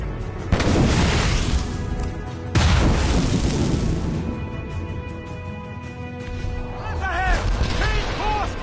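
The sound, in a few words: cannon fire in Assassin's Creed Rogue video game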